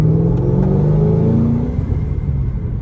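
A deep, throaty V8 sports car engine with long-tube headers and a shorty muffler rumbles loudly close by, revving with rising and falling pitch, then easing back toward a lower idle.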